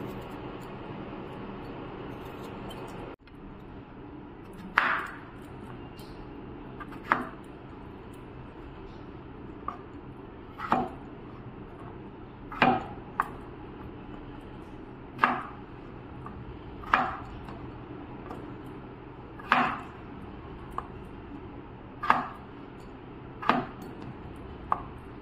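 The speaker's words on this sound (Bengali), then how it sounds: "একটাই আলু দেব, আলুটাকে কেটে নিই ভালো করে।" A knife chops through a single potato in slow, evenly spaced cuts, roughly a dozen sharp close knocks on a board against a quiet background hiss, with no talking.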